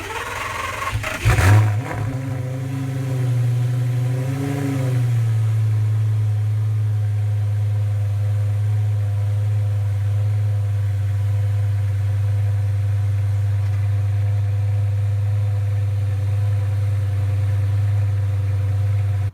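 A Lamborghini Gallardo, freshly filled with oil, cranks and catches with a sharp rev flare, then settles into a loud, steady, close-up idle that holds unchanged to the end.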